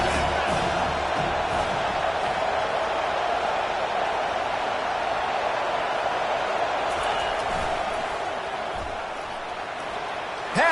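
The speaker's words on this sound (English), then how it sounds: "This crowd trying to make life miserable for this offense." A stadium crowd in the NCAA Football 25 video game makes a steady, dense roar throughout. It eases slightly near the end and may have commentary faintly beneath it.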